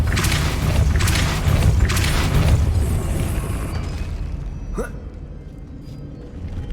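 A Depulso force-push spell is cast in the video game Hogwarts Legacy, with a series of heavy, rumbling bursts and a swooshing whoosh partway through, all fairly loud.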